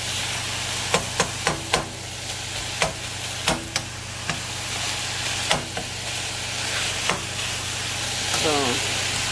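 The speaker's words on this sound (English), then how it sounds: "So I'm chopping up the meat" Sharp metallic taps of a spatula breaking up ground meat in a frying pan, irregular and close, over a constant sizzling frying hiss.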